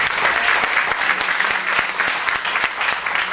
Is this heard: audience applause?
yes